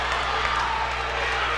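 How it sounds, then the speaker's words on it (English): A steady roar of crowd noise fills a high school gym during a Class 2A boys varsity basketball district final, a dense, even wash of voices and cheering with no single voice standing out. "Listen to the crowd."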